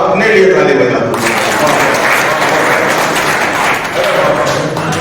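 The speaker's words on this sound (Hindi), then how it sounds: "एक बार अपने लिए ताली बजा दो।" A mushaira audience breaks into a dense wash of applause that swells and holds for several seconds, with a voice speaking over it at the start and again near the end.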